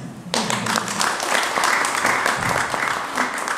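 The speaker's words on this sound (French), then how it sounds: "Est-ce qu'on peut applaudir?" Applause breaks out at a Brussels press conference, starting abruptly after a brief moment of voice and continuing as fairly close, uneven clapping from a modest group of hands.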